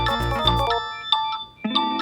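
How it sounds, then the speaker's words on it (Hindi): A mobile phone rings with a bright, tonal electronic ringtone, a dense chord-like burst followed by shorter repeating tones, loud and close with no talking over it. "ये ले, बड़ा बज रहा है मेरा फोन।"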